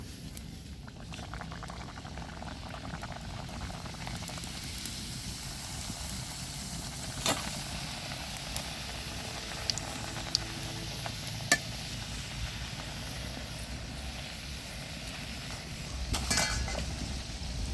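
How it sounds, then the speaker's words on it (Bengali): Nimki dough pieces fry in hot oil, a steady soft bubbling sizzle with occasional small pops and faint clinks, close but fairly quiet and continuous throughout, no voices. "কড়া করে লাল করেও ভাজা যায়, যেহেতু আমরা বাড়িতে খাবো এই জন্য একটু লাল কম করতেছি, এরকম করে ভাজতেছি"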